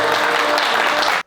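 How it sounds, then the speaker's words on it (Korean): The first division of a JYP Entertainment basketball tournament draw ceremony claps loudly on cue, a dense, steady burst of crowd applause that cuts off abruptly near the end. "1반부 여러분 한번 박수 한번 부탁드립니다."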